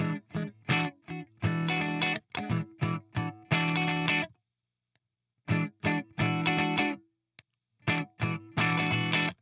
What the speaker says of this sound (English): So that's our compressor pedal.